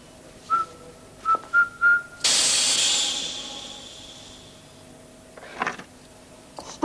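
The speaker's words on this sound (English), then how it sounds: "What tune did Bond whistle to make the stun gas work?" A few short whistled notes of Rule Britannia set off stun gas in a James Bond spy film scene. A sudden loud, sustained hiss of escaping gas follows the whistling, slowly fades, and ends with a faint rustle.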